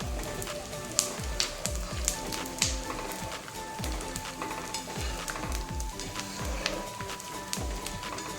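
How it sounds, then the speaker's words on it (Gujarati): Edible gum (gond) roasts in a pan with a busy, crackling sizzle full of quick pops and bursts, as pieces puff up continuously throughout, close and fairly loud. "જોઈ શકો છો ગુંદર શેકાઈ ગયો છે, સરખી રીતે શેકાઈ જવા દેવાનો છે"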